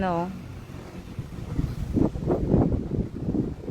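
Gusty wind buffets the microphone in low rumbling bursts, following a short voice at the very start.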